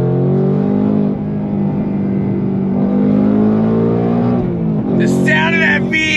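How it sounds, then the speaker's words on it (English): Loud, steady V8 engine note from a 2024 Ford Mustang Dark Horse under throttle, heard from inside the cabin as it accelerates, with the pitch climbing through the revs and a brief vocal remark near the end. "The sound of that V8, baby."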